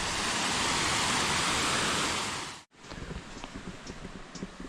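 A small river flowing in Morocco's Rif Mountains, a loud, steady rushing wash that cuts off abruptly and is followed by a quieter, softer flow of water.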